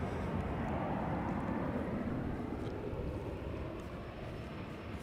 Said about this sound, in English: This is Delta Airlines flight 57